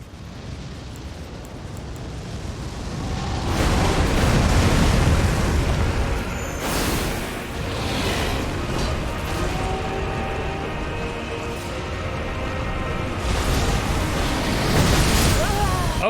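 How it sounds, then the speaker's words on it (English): Elden Ring's gravity wave attack lands in a broad roaring rumble, set off by sharp bursts that swell and ease over a long stretch of loud combat noise. "Was not expecting the gravity wave."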